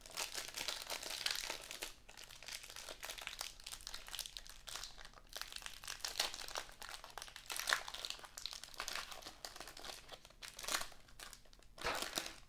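Crinkling and crumpling of a plastic wrapper being torn open on a Hoops Premium Stock basketball card pack, a steady close-up rustle with sharper crackles throughout and no talking.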